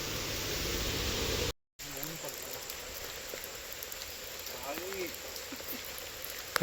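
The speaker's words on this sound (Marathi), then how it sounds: "आज भरपूर पाऊस पडता, सकाळपासूनच पाऊस आहे." Steady rain falls at a temple site during days of continuous monsoon downpour, a dense hiss of drops that cuts out for a moment, then resumes more softly beneath a faint voice.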